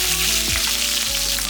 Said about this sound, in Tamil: 4 பல்லு பூண்டை தட்டி எடுத்து வச்சுருக்கேன், இதையும் போட்டுக்கலாம். இப்போ ஒரு இனுக்கு கருவேப்பிலை போட்டுக்கலாம்.